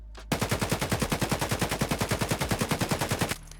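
Close-quarters point fire from an automatic weapon in a shooting video game: a fast, even stream of about thirty loud shots in three seconds, then abrupt silence.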